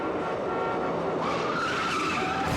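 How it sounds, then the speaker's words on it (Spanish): Tires screech loudly from a car chasing a train in a film, a long continuous squeal over roaring engine noise, rising in pitch partway through, with no talk. "el rechinar de ruedas de un coche que persigue a un tren"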